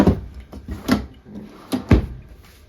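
Several drawers in a 2022 Forest River Tracer 260BHSLE travel trailer sliding open and shut in quick succession, with woody thumps and rolling rattles, close by and fairly loud.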